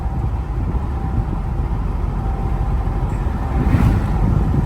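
A 2019-24 Ram 1500 with the 5.7 V8 and an MBRP high flow muffler gives a steady, low, mellow exhaust rumble while cruising around 35, heard from inside the cab with some road and wind noise.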